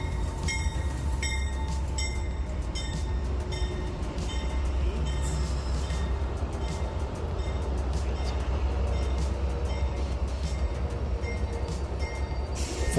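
Amtrak Silver Star diesel locomotives power up at the Fort Lauderdale station, a low steady engine drone with rail rumble and faint metallic clanks, heard from inside the train at moderate distance.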